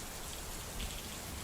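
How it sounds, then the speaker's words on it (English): Rain falls steadily as a background effect in a narrated gangster story set in Lagos, a faint, even hiss of drops with no voices over it. "The rain begins to ease."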